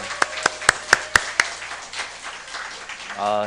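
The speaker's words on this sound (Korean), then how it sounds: "다시 한번 감사의 박수 드릴까요?" A church congregation gives thanks applause during a Sunday service: several sharp, evenly spaced loud claps first, then softer scattered clapping that fades, with a voice starting at the end.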